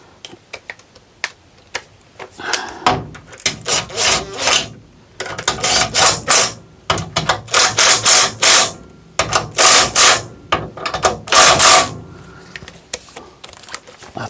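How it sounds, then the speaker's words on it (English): Makita power ratchet driving standard bolts while a rebuilt 350 Turbo transmission is mounted in a 1964 C10, with repeated short bursts of whirring and ratcheting separated by brief pauses, close and loud. "Get the Makita going here."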